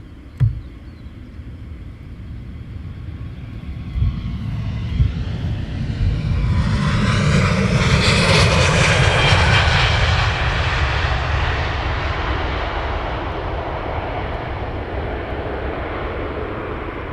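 A Blue Air airliner arrives at London Luton Airport, its engine roar building from a distant rumble to a loud, broad rush that peaks midway and then slowly fades as the plane passes.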